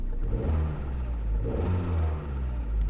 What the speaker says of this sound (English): You can hear those lifters.